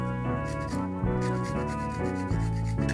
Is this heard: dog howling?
no